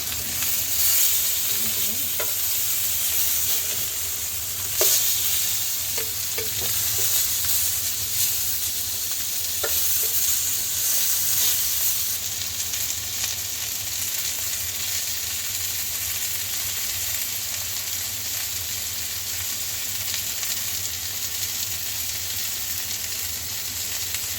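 Chicken pieces for steak fry in a pan with a steady, close sizzle and hiss, broken by a few light clicks of stirring.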